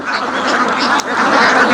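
Khaki Campbell ducks quack loudly and close by, a dense overlapping chorus of calls with no pauses.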